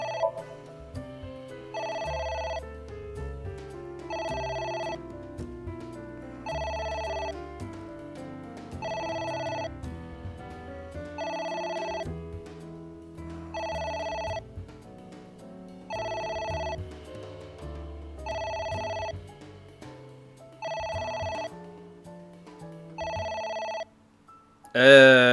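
In the A.I.: The Somnium Files video game, a telephone rings repeatedly in evenly spaced electronic bursts, about a dozen in a row. Quiet music plays underneath, and a brief voice cuts in at the very end.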